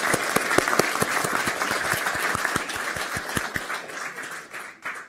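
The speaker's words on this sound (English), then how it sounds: "Round of applause." An audience at an Apollo anniversary event breaks into a warm round of applause, dense steady clapping that fades out toward the end.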